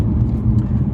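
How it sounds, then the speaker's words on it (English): BMW M3 E90 exhaust heard close and loud as a steady, deep low rumble with a raw, metallic edge, droning continuously without distinct separate barks. "That bark on the downshifts, man, it's so addictive"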